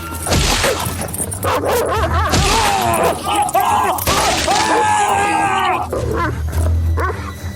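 Big black dog attacking as a sound effect in an aswang horror narration: loud, continuous snarling and barking bursts filling the whole stretch, close and aggressive, with some crashing noise mixed in.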